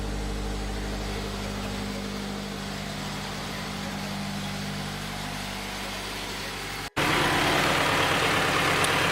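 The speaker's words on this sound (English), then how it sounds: "So we got the car running now." A car engine idles steadily after a flex fuel kit install, a low, even rumble that continues without change, then briefly cuts out and returns louder and brighter for the last couple of seconds.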